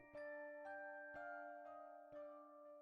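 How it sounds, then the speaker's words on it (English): A school bell chimes in the video game Lawmage Academy, striking five evenly spaced ringing tones that sustain and overlap, clear and alone. "Wake up after hearing the school bell."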